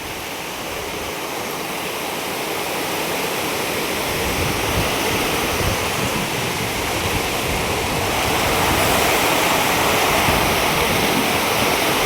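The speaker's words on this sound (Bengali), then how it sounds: "কীরকম বৃষ্টি হচ্ছে দেখো" Heavy evening rain pouring down at a toll plaza in a storm, a dense, loud, unbroken hiss that swells slightly over time, with no voices.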